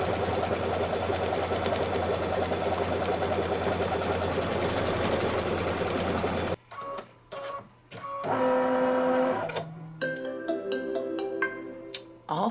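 An embroidery machine stitches the last section of a birth announcement wall hanging, a steady close mechanical whir that stops abruptly partway through, followed by a series of electronic beeps and tones.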